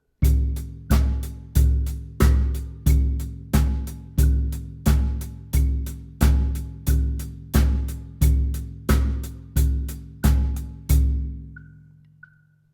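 Steady basic drum groove with eighth-note hi-hat and snare backbeat on 2 and 4, played alone at an even tempo, close and fairly loud, with the last hits ringing out.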